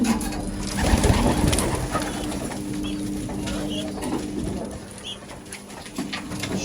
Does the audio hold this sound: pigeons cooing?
yes